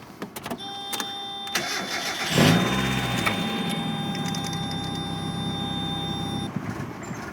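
Mazda Miata project car engine cranks and catches at about two and a half seconds, then settles into an uneven, rough idle that runs steadily close by for the rest of the clip, with a high whine and scattered clicks before it fires.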